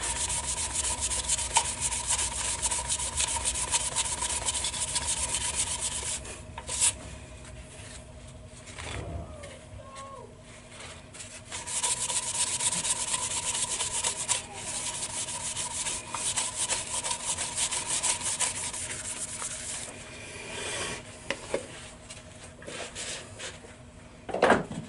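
Green wood bowl sanded by hand at the edges while mounted on a lathe, a long steady rasping rub that pauses briefly and resumes, close and fairly loud with no talk.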